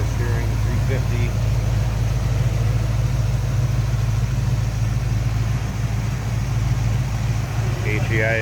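A steady deep idle comes from a 1972 Chevelle Heavy Chevy's 350 V8 with HEI ignition and a modified intake, a loud, even rumble held close throughout while someone talks briefly over it.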